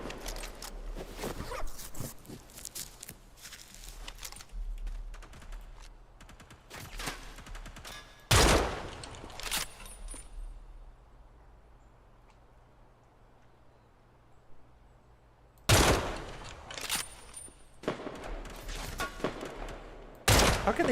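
Video game gunfire in Project Silverfish crackles in scattered volleys, sharp loud bursts around a couple of louder distant-sounding shots, separated by a long stretch of quiet foggy ambience.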